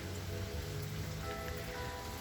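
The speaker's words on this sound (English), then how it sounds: "It's raining out here." Steady rain patters on a surface outdoors, a constant close hiss with no voices.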